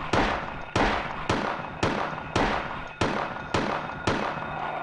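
Gunshots in the horror game Silent Hill 2, eight loud, sharp reports at an even pace of about one every half second, each with a short decaying tail, no talking.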